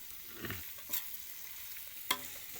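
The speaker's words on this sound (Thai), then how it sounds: "ผัดไส้หมูนะครับ" Pork intestines stir-fried in a pan, a quiet steady sizzle broken by a few sharp utensil scrapes and clacks against the pan, no voices.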